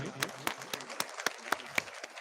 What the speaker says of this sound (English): There should be a big clap, my dear.